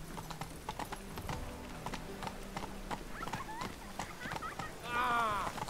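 Horse hooves clip-clop rapidly in The Witcher 3, a steady galloping patter under game music, with a brief whinny near the end and someone talking over it.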